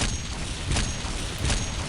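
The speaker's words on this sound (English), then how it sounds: "You have the cannon," A tank cannon fires in the game Planetside, two dull booms about a second apart standing out over a continuous loud rumble of engine and battle noise.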